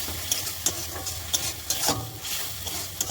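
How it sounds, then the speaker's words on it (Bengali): Spice paste for a rohu and catla fish curry being stir-fried in a pan: a steady sizzle broken by repeated scraping strokes of a spoon, close and moderately loud, with no talk. "মশলাটা ভালো করে কষিয়ে নিই।"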